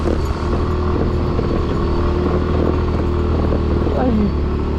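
A motorcycle engine drones steadily while riding over a rough road near Batangas City, with a continuous low rumble and light clatter, and people talking over it throughout.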